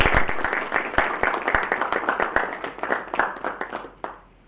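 Audience applause at a textile industry conference on denim business, a dense patter of many hands clapping steadily in a hall for several seconds before tapering off abruptly.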